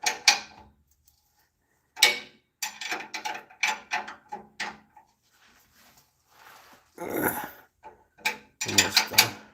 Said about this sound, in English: I'm using this wrench because I didn't have the deep well over here